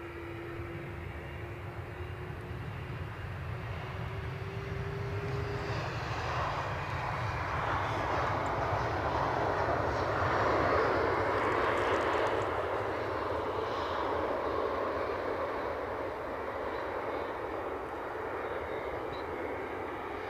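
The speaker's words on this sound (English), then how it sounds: "it's our little Cessna 560" Cessna 560 business jet at windy Edinburgh Airport, its engine a steady broad roar that swells gently mid-pass and stays fairly even throughout, heard from a distance with wind noise and no talk.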